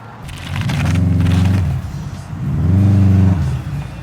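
A Mitsubishi Evo X with a Tomei exhaust revs hard in two loud, close bursts on a rolling acceleration run, each surge climbing and then cutting off, with a short lull between them.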